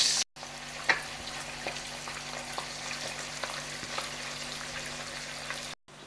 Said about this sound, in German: Gebt nun eine Pfanne mit etwas Öl auf den Herd und bratet dort ein bis zwei Spiegeleier.